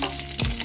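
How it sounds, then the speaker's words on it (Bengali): Bori lentil dumplings frying in hot mustard oil, a brief close burst of crackling sizzle. "প্রথমে আমি বড়িগুলো এই তেলে ভেজে নেব।"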